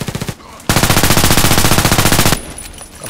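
Bursts of rapid automatic fire from an SR2M Veresk submachine gun in the online shooter Contract Wars. A short volley is followed by a longer sustained burst of evenly spaced, loud, close shots, then quieter game sounds.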